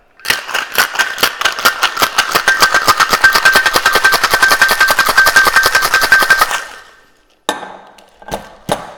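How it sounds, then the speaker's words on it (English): A Jack Rose cocktail shaken hard with ice in a shaker: a fast, loud, steady rhythmic rattle of ice for about six seconds, then silence and a few separate clinks and knocks. "I'm gonna go ahead and add my ice. We're gonna go ahead and give this a shake."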